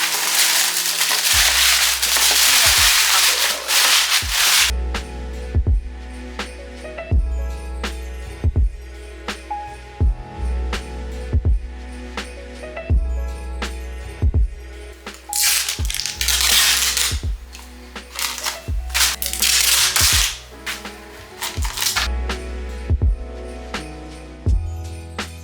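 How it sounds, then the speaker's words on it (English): Tissue paper being handled and laid onto a care package box, loud close crinkling and rustling bursts with soft thumps throughout, no talking. "Put it on the box, and then put the tissue paper on top."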